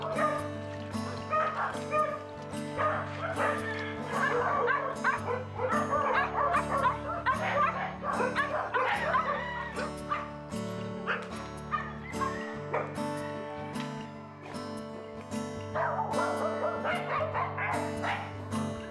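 Dogs adopted from the street bark and yip repeatedly, close by, in sharp, uneven bursts over steady background music, with occasional whimpers.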